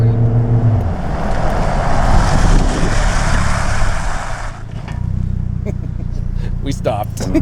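A Chevy Colorado on airless off-road tires drives at about 40 mph, with a loud engine and road roar heard from inside that fades sharply as it brakes to a stop, and voices talking over it.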